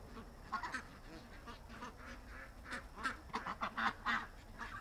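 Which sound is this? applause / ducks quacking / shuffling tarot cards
ducks quacking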